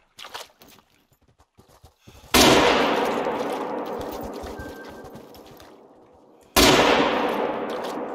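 Two loud hunting rifle shots ring out in theHunter: Call of the Wild during a mule deer hunt, each a sharp crack followed by a long, fading echo, with faint clicks beforehand.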